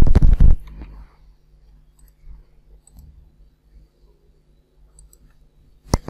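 Computer mouse and keyboard clicks during spreadsheet work, a burst of sharp clicks at the start and another at the end with near silence between.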